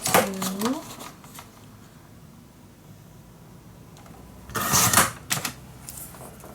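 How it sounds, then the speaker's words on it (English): Scissors cut a sheet of craft paper for a mini album in two, with crisp snipping strokes and a short burst of paper rustle near the end, close and fairly loud, after someone briefly speaks at the start. "I'm gonna cut this in 2"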